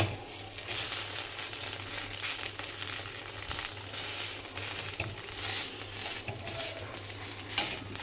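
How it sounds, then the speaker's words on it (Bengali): An egg frying in a pan, giving a continuous close crackling sizzle with small irregular pops, plus a low steady hum underneath and a couple of faint metallic clinks. "আমার ডিমটা একটু ভাজবো আমি"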